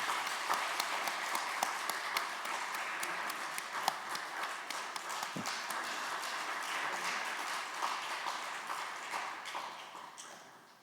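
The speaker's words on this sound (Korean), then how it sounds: "박수 한번 하겠습니다." Church congregation applauding at an ordination ceremony, a continuous dense patter of clapping held steady before fading out at the end.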